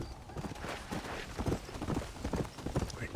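Hooves clip-clop in an irregular rhythm from a horse tied up in the Red Dead Redemption: Undead Nightmare zombie apocalypse game, moderately close and steady throughout with no speech.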